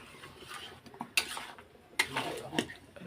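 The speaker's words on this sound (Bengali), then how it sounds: "চিকেনটা এখন কষাবো, কষানোর পালা।" Chicken stirred and sautéed in a pan, with a few sharp spatula scrapes and clinks against the metal over a quiet low sizzle, heard near and fairly faint.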